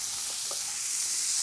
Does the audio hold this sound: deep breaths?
no